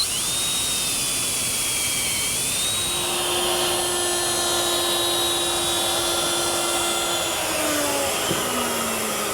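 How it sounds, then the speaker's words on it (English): A steady, loud whine of a power drill boring a 1/2-inch hole into a wooden chest lid through a doweling jig runs throughout, its pitch shifting slightly as it cuts. "Here I've set a doweling jig to drill a 1/2-inch hole in the lid"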